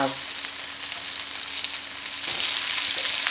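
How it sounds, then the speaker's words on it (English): Chicken browning in a hot frying pan gives a steady, close sizzle of fat and crackle that runs throughout with no talk, with a few brief stirring scrapes near the end. "You just want to brown it on each side, and then you're going to put it in the oven to finish it off."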